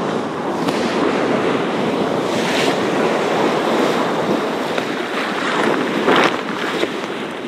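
Waves slapping against a sailboat on the Chesapeake Bay, steady rushing surf and wind noise with a few sharper splashes, close and continuous, no talk.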